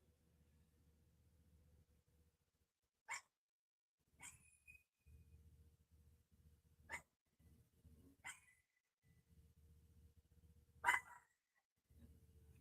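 A dog gives several separate sharp barks, spaced seconds apart, fairly faint against a low indoor rumble.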